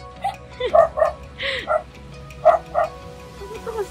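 A dog gives a run of short, high yips and barks with whimpery tones, close by in a home setting in La Union, while people talk in the background.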